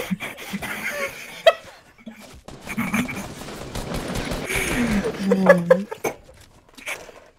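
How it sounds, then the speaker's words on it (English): Rapid bursts of video-game gunfire from a Fortnite match crackle through the middle of the stretch, mixed with people talking and laughing over it. "Yeah, but she's getting shot at, you know?"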